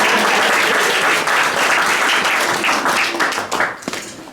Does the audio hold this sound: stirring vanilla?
no